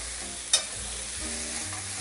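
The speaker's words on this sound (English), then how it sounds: "we're just going to stir around these mushrooms for a second" Mushrooms stirred and sizzling in a pan while making chicken Marsala, a steady quiet sizzle with a sharp utensil clink and a few soft stirring scrapes, no voices.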